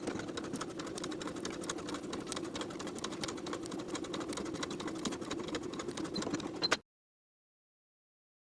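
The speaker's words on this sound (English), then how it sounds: "Edge stitching along that pressed edge from the top to the dot" A sewing machine edge stitches the fly seam of high-waisted A-line shorts, a faint steady whirring run that stops abruptly and leaves silence.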